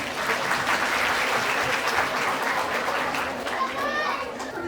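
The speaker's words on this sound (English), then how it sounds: "One more applause for our little angels." Crowd clapping at a school annual day for young children performing, a thick continuous wash of applause with children's chatter mixed in and brief tonal voices near the end.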